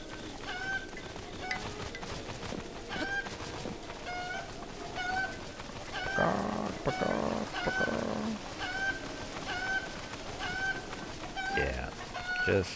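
Chickens in the video game Breath of the Wild give repeated short clucks and squawks over steady game ambience, with a voice talking partway through.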